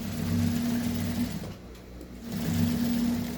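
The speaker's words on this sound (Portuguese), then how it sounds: "Agora ficou boa, ó. Agora tá andando a costura." A domestic sewing machine stitches fabric in two steady bursts of humming motor and needle clatter, separated by a short pause, close and moderately loud.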